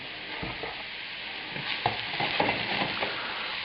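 Mushrooms fry hot and fast in a pan at about 400 °F, packed in a single layer for a Viennese mushrooms-in-cream appetizer; a loud, continuous close sizzle with scattered pops and a few light knocks, no talking.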